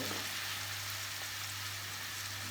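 Callaloo seasoning frying in a pot on the stove, a steady, dense sizzle with faint stirring underneath, continuous and close, with no voices.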